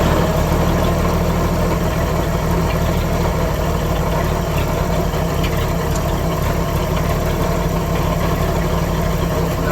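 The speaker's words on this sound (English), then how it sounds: "But let's fire it up and see if it leaks." A 1938 Chevy coupe engine, freshly reconnected with new hose clamps, runs at a steady idle, close and loud, with a constant low throbbing rumble and no talking throughout.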